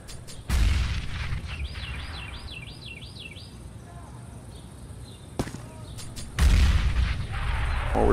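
Gunfire from an AK-47 rifle in the video game Counter-Strike: a loud, sharp blast that rings on, then a brief crack and another heavy burst near the end, set against a steady game background.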